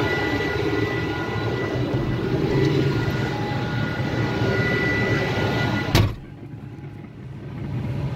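A tractor engine runs with a steady low rumble that stops abruptly with a sharp click, leaving near silence and faint background noise.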